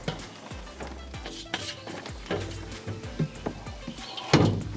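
Freshly popped ghost pepper caramel corn poured from a popcorn kettle into a bin, a close rustling, clattering cascade with scattered knocks and scrapes, ending in a louder rush.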